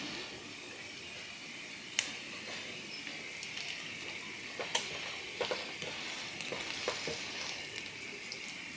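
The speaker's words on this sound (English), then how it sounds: "you keep on stirring the potatoes until they are cooked, not on high heat, but medium heat" Potatoes sizzle steadily in a pan over medium heat, with occasional scraping clicks of stirring, no voices.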